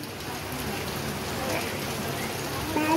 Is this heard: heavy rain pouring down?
yes